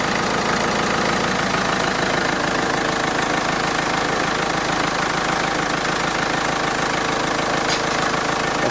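A car engine, started cold to warm up, idles loudly and steadily with a fast regular pulsing knock and constant mechanical rumble, close by and without talk.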